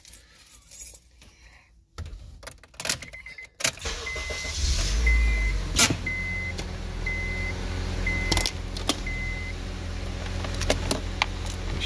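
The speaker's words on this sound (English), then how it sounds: "We should hear a compressor fire up, and we do." An RV brake system's air compressor starts up after a few clicks and rattles, then runs as a steady low electric hum and whir with occasional clicks and beeps nearby.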